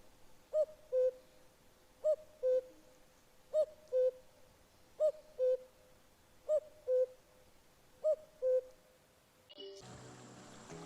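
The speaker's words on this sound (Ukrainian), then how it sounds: "Зозуля." A cuckoo calling its two-note cu-coo, repeated seven times at an even, unhurried pace, clear and fairly near against a quiet background, ending with a burst of broadband noise.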